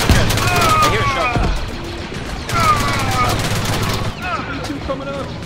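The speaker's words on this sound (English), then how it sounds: "I hear a shot." Gunshots in Squad Galactic Contention: repeated shots and rapid bursts ring out over a steady hum of battle, fairly loud and close, with brief whining tones between them.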